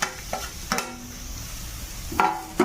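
Grated carrot for a Kathiyawadi carrot chutney hits hot oil in a pan with a steady, close sizzle, punctuated by a few sharp clinks of a utensil against the pan.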